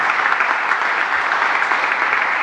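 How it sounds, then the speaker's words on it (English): An audience applauding for Stefan Pryor at an event about the Superman Building, dense, continuous clapping from a large crowd, loud and even with no pause. "join me in giving a big applause for Stefan."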